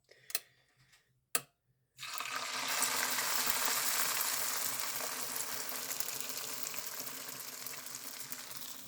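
Eggy waffle batter cooking on a stovetop waffle pan, starting with two sharp clicks of the pan closing, then a steady loud sizzle and hiss that runs on without talk.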